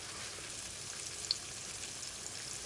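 Sri Lankan brinjal pickle mixture cooking down in plenty of oil, a steady soft sizzle and fry heard close with no talk over it.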